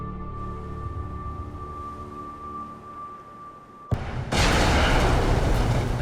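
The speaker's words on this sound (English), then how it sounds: "A deadly explosion rocks a massive container ship." Aboard a massive container ship, a low steady hum gives way to a sudden loud blast at about four seconds, followed by a heavy, sustained roaring rumble.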